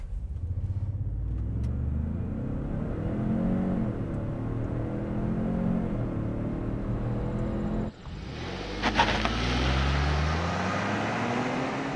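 A 2020 Ford Expedition SUV accelerates hard with traction control off, the engine revving up through rising gears in a loud, sustained pull, a brief drop at the shift, then climbing again.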